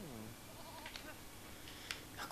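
Sheep bleating in the Lego Lord of the Rings video game, a wavering, nasal cry at the start followed by a few shorter bleats and small game effects at moderate level, with no talking.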